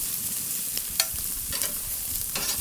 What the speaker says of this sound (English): I actually like cooking at a really, really high heat